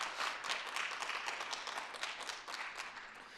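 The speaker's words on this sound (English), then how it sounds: "Can we give Jean Dinwiddie, the Senior Advisory Committee, and G-Park a big round of applause?" A crowd at a city State of the City event applauds, a continuous wash of many hands clapping, fairly distant and soft throughout.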